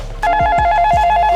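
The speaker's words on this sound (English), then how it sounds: "Oh, man, answer the phone call" A phone rings with a loud, close electronic tone of short pulsing warble repeated in quick succession, heard alone.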